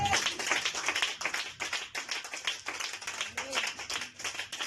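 Church congregation at a revival service clapping and cheering for the Lord, dense continuous applause with many hands together and voices mixed in.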